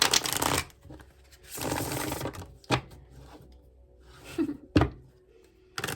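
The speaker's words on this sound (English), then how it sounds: "Good grief, I can't shuffle." Bursts of tarot cards being riffled and shuffled, several uneven rounds with thumps and pauses between, fairly close and moderately loud, no talking.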